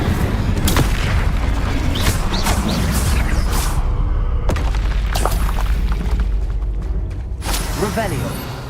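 Incendio fire spell cast in a Hogwarts video game, a loud burst and booming whoosh within dense game effects, with a player's voice talking over it.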